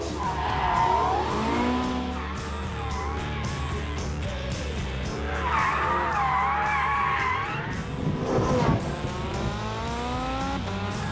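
A four-wheel-drive car with rear-wheel steering corners fast, its engine note rising and falling steadily with tyre squeal and skidding noise, and a voice briefly shouts or whoops near the end.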